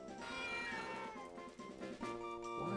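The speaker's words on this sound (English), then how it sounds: "She's meowing at me." A female cat meows repeatedly up close, a series of clear, drawn-out cries with a slightly wailing edge, heard alone without talk.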